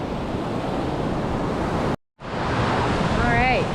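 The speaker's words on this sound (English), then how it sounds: "Beautiful day on the ocean." Ocean surf at a beach on a flat, calm day: a steady broad wash of water with wind buffeting the microphone, a brief dropout midway and a faint high warbling tone near the end.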